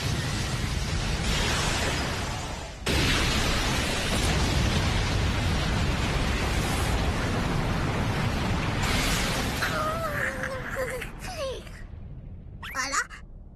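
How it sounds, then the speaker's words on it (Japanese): An anime explosion, from Nanatsu no Taizai, erupts into a sustained, roaring blast with rumbling debris, gradually dying down, followed by a few short sharp sounds. "今確か爆発が"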